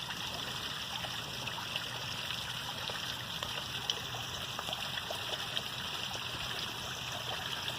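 Rainwater pours steadily into a sinkhole during flooding, a broad continuous rushing and trickling wash that stays even and fairly close throughout, with no voices.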